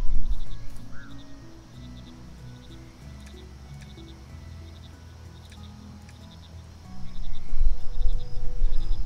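Green frogs croak and chirp in a soft repeating pattern over a steady ambient drone in the Mudborne frog-breeding game, with a louder swell of background sound near the end.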